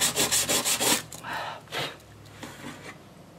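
Jewelry being hand sanded with wet/dry sandpaper: a quick series of close, rhythmic rubbing strokes, then a few slower, separated scrubbing passes that fade to quiet.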